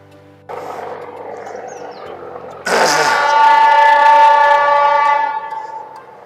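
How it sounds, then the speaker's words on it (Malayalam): Train passing close to a hotel in Ooty: a rumbling approach, then a loud, sustained horn with steady tones that holds for a few seconds before easing off as the train rolls by nearby. "തൊട്ടപ്പുറത്തോടാണ് ട്രെയിൻ പോകുന്നത്"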